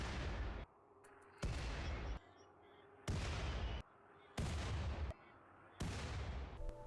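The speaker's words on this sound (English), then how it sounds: "The mortar is not a very accurate weapon, however we do manage to take down and injure some of the mechanoids before we run out of shells." A mortar in the video game Rimworld fires shells at mechanoids: five heavy booming blasts, evenly spaced about every second and a half, each sustained briefly before cutting off, with quieter gaps between.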